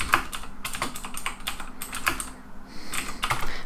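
Typing on a computer keyboard, with quick clusters of close, crisp key clicks and a brief pause in the middle, alone and without talk.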